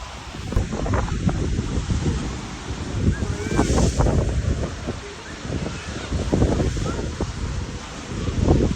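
Big waves crash and surge at Walton beach in the UK amid heavy wind buffeting the microphone, a continuous rough roar rising and falling, with a few brief voices.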